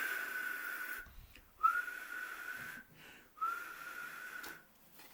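A person whistles to imitate a whistle, giving three sustained steady tones in a row separated by short breaths, close and fairly quiet, with no talking.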